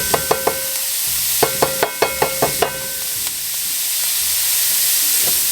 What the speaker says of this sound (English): we're going to add our onions